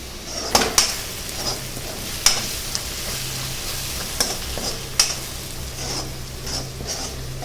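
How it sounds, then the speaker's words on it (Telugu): Masala and onions fry for a Kerala-style chicken curry. A soft, continuous sizzle sits under intermittent metallic scrapes and clinks as a spoon stirs the pan, with a few sharper knocks. "ఓకే ఫ్రై మసాలా వేసి ఇంకా ఫ్రై అవుతుంది."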